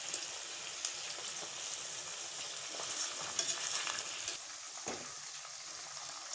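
Chicken karahi pieces fry over a high flame, giving a steady, close sizzle with occasional stirring scrapes and spits and no talking.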